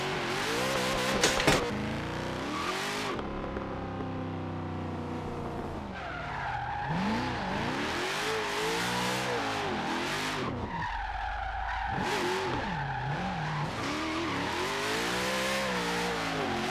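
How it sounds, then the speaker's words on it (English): A car drifts in a racing video game played with a steering wheel: a loud, continuous engine drone rises and falls as the tyres skid and squeal through the slides, with no talking. "I've not chosen the greatest area to go drifting at, have I?"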